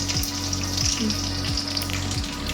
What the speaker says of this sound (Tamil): குழம்பு தாளிக்க வந்து ஸ்டார்ட் பண்ணிட்டோம்